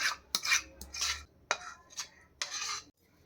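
Spice mix spooned onto arranged eggs for Bengali steamed egg bhapa, a series of close metal spoon scrapes and clinks against a pan or dish in uneven rhythm, with no speech.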